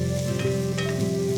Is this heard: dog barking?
no